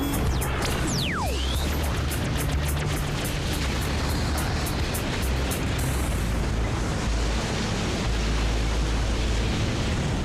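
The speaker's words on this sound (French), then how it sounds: "Il a actionné le canon laser!" A cartoon laser cannon fires with a rising zap, then bursts into a long, roaring explosion that rumbles loudly and continuously for several seconds.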